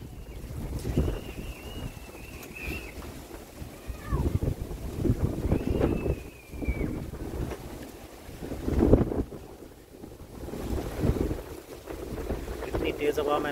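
Strong gusts buffet the microphone in an outdoor yard during a windstorm barbecue, with heavy low rumbling that surges and fades in waves, close and loud throughout.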